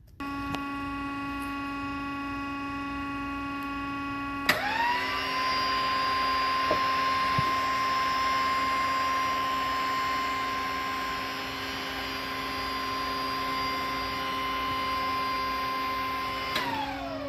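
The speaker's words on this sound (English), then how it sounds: "let's raise the cylinder and check for leaks" Hydraulic cylinder on an old Crown SC forklift being raised after an end cap repair: a steady electric pump whine with a constant tonal hum kicks in abruptly and holds for about twelve seconds, then cuts off.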